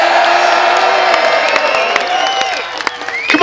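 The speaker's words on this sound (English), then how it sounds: "Big cheer for the Bruce, please." Outdoor crowd at a Battle of Bannockburn reenactment cheering for Robert the Bruce, a loud, near, sustained mix of shouts, whoops and high children's voices, with scattered claps and no clear talking.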